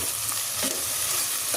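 Chicken with salt sizzles and is stirred in a pan for arroz caldo, a dense, continuous close frying hiss with soft scraping strokes throughout.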